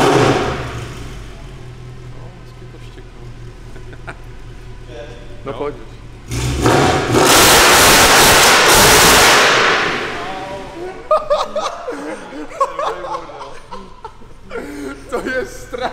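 Mercedes C63 engine roaring in a loud sustained rev through long exhaust headers, then dropping to idle burbles and blips, with people talking and laughing before and after.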